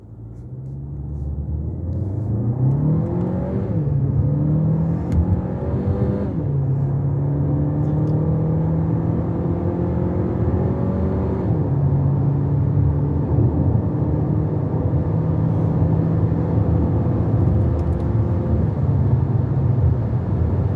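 A Chery Tiggo 8 Pro Executive accelerates hard from a standstill toward 150, its engine droning and rising in pitch through several gear changes under steady road and wind roar from inside the cabin.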